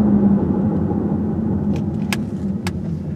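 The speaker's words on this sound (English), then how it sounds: "let's listen to the brakes." Chevrolet Malibu on the road with a front wheel bearing concern, giving a steady loud cabin rumble of engine and tires, with a couple of brief sharp high clicks or squeaks near the end and no talking.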